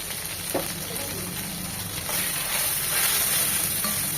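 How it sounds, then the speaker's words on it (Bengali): Roasted cumin powder frying in oil with chilli powder, a continuous close sizzle and hiss with light stirring for a few seconds. "এটাকেও 1 মিনিট তেলের মধ্যে ভেজে নেব।"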